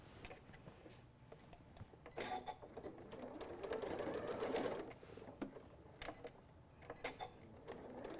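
A sewing machine stitches a quarter-inch seam around fabric for a stuffed nativity piece, a quiet rapid mechanical whir in short bursts with brief pauses between runs.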